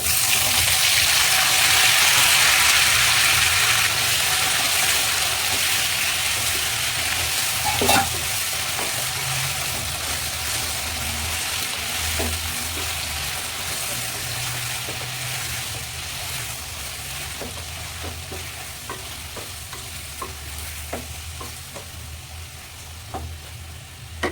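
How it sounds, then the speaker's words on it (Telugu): White brinjals tipped into hot oil, frying with a loud steady sizzle that slowly fades, a sharp stirring clatter partway through and lighter scraping clicks after. "ఇప్పుడు వంకాయలు అన్నీ వేసేస్తున్నాను."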